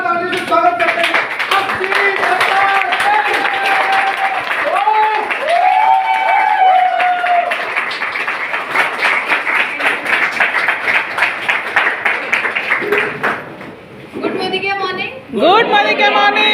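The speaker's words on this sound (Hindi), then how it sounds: "एक बार आप लोगों से खड़े होके जोरदार ताली से स्वागत करते हैं।" Standing audience gives a loud, sustained round of clapping and cheering at a direct selling seminar, dense applause running for about thirteen seconds before a brief lull, then another burst mixed with voices.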